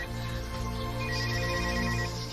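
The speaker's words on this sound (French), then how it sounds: "On m'appelle." A phone ringtone plays at steady volume, a continuous melodic electronic ring that lasts throughout with no talking over it.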